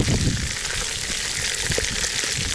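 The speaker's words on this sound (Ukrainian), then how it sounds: "Чим обжарюємо м'ясо, питаємося обжарити до золотістої корочки" Meat fries loudly in a pan for plov, a dense continuous close sizzle and crackle with no pauses.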